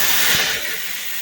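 Water poured into hot tempering oil with mustard seeds, curry leaves and chillies in a pan for khaman dhokla, giving a loud, steady sizzling hiss close by that eases slightly after a sharp initial burst.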